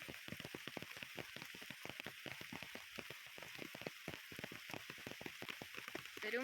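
Steady rain falls in a dense patter of quick drops, an even, close wash of sound that runs without a break.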